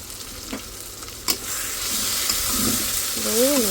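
Fish curry fries in a pan with a continuous hiss and crackle that grows slightly louder, broken by a couple of knocks of a spoon and a short wavering tone near the end.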